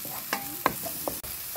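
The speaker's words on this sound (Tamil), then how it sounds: "எண்ணெயில் வந்து பூண்டு பச்சை மிளகாவையும் இப்போ நம்ம சேர்த்துக்குவோம்." Finely chopped garlic and green chillies fry in hot oil, a brief close sizzle marked by a few quick stirring scrapes and a sharp clack of the utensil, with no speech.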